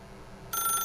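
A telephone starts ringing in The Stanley Parable video game, a bright electronic ring cutting in abruptly halfway through over a low steady background hum.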